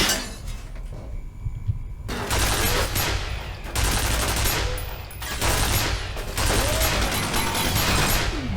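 Loud, rapid automatic gunfire from the F.E.A.R. video game comes in several sustained bursts with brief pauses between them, mixed with clattering mechanical and glassy impact noises.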